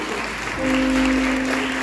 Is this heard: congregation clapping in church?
yes